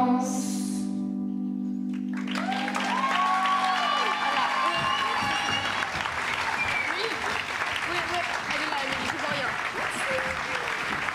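A held sung chord fades out, then an audience at a collège Notre Dame de Sévigné school closing concert breaks into loud, sustained applause with scattered whoops and cheers, filling the room for the rest of the moment.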